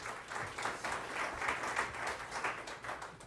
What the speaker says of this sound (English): So if you could give each other a round of applause,